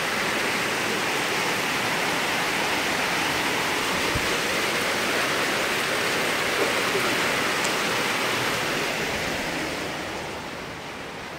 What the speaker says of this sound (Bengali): এই যে বৃষ্টি হচ্ছে, বাইরে দেখাচ্ছি।